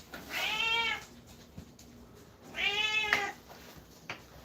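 A pet cat on a farm gives two drawn-out, clear meows a couple of seconds apart, close by with light background noise between them.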